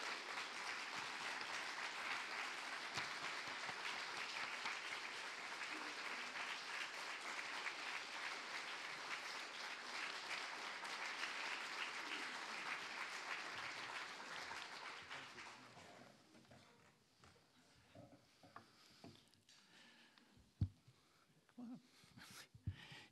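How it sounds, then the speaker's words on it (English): Sustained audience applause at an awards ceremony at the TCADP annual conference, loud and steady for about fifteen seconds before fading to scattered claps and quiet room noise. "Please join me in applauding again, Dave Atwood."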